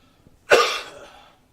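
A single sharp cough during chest physiotherapy bursts out close by, followed by a short breathy tail fading away; quiet otherwise.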